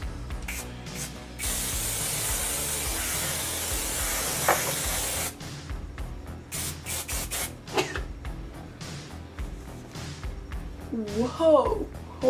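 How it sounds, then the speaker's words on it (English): Hairspray hisses in a long continuous burst onto hair while trying an 80s hairstyle, followed by shorter sprays and rustling handling noises as a person talks. "So I'm just gonna nail it with some hairspray because that will definitely make it good."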